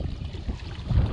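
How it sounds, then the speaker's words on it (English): Gusty wind buffeting the microphone outdoors on a fishing trip on the water, a close, rumbling low roar that swells and dips, alone without talk. "the wind has picked up"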